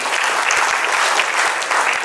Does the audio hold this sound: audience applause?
yes